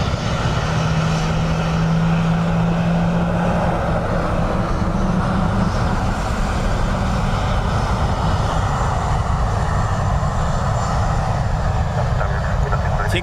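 Airliner landing at Dublin Airport in gusty crosswind, a steady broad jet roar with wind rumble, continuous and fairly distant, a faint tonal whine early on.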